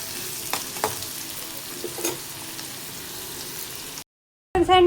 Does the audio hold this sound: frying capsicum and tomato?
yes